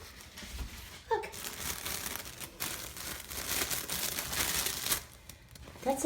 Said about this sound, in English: That's the sound of the tunnel.